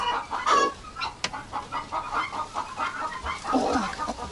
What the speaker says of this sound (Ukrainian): О, ось і курочка.